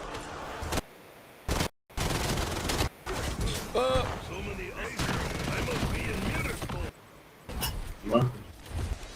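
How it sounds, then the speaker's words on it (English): Gunfire from a video game survival map rattles in dense bursts, loud and close, with excited talk running over it. "Wow, that gun is crazy."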